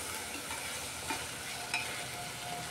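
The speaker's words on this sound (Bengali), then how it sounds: "লবণটা দিয়েও একটু নাড়িয়ে নিচ্ছে ভালো করে" Onion and garlic with salt stirred in a hot frying pan, giving a steady soft sizzle with faint scraping stirs, close and continuous with no talking.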